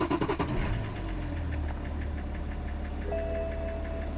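A BMW E90 330d diesel engine idling right after a cold start, with a steady low rumble and a clattery knock throughout, plus a few sharper knocks at the start and a faint whine appearing near the end.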